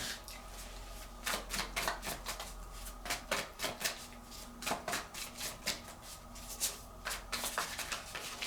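Tarot cards being shuffled and handled, with a quiet run of crisp paper riffles and soft slaps coming in irregular bursts close by, no voices over them.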